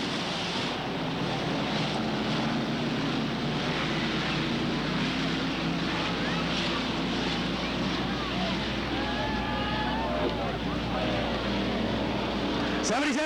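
Limited sportsman race cars run a heat race at Cottage Grove Speedway's 1991 Fall Classic, their engines a steady, loud, blended roar with wind buffeting throughout and faint voices buried in the noise.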